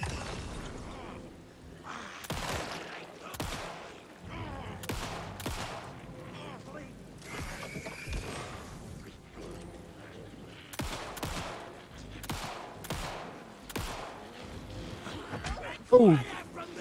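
Gunfire in the video game Alan Wake 2, sharp shots in irregular bursts spread through the stretch, with a voice speaking between and over them and a brief whoosh near the end.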